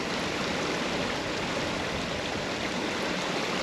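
A small brook in Scotland's Atlantic rainforest on the Ardnamurchan peninsula, its water rushing in a steady, dense, close babble that never lets up.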